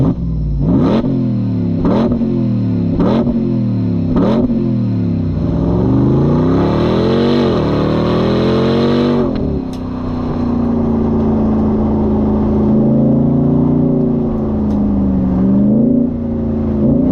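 A 2024 RAM 1500 TRX Final Edition pickup accelerates hard in second gear. Several loud rhythmic revs give way to a sustained rising engine roar, with a brief tyre squeal and a shift to a steady drone.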